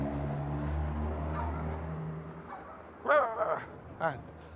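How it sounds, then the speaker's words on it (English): Two dogs on a street on a walking tour in São Roque, Ponta Delgada, Azores, giving short yips and whimpering cries in the second half, after a steady hum of passing traffic. "And two dogs there, huh?"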